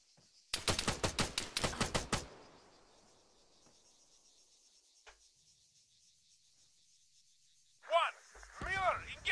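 Video game gunfire in Arma 3: a rapid burst of about a dozen sharp automatic shots, fairly close, followed by a quiet stretch with a faint tail and a few more muffled sounds near the end.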